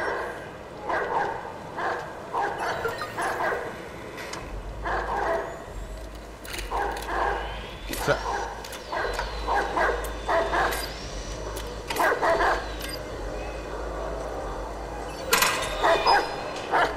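Dog barking in the video game Watch Dogs 2: repeated yapping barks and whimpers in uneven bursts throughout, fairly close, over a low steady rumble of game ambience.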